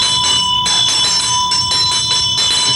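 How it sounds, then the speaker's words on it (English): A hand bell rung during ninjutsu Mikkyo practice, alongside a dorje, gives a bright, sustained metallic ring. Its steady tone pulses with repeated strokes across the short span, loud and alone. "we have a bell and a dorji"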